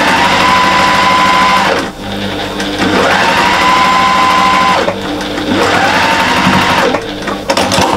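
A sewing machine stitches fabric gusset pieces for a small bag, running in a loud, steady whirring drone broken by brief stops near two and five seconds, close up, with the motor pitch rising and falling slightly and no talk.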